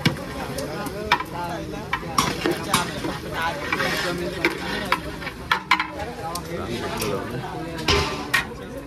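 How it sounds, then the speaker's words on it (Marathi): Onions are stirred in a large pot over a wood-fired stove while cooking dal mundi for 500 people, with loud scraping and clanking strokes over a continuous sizzle and people talking nearby. "आता इथे नितेश आला कांदा हलवायला"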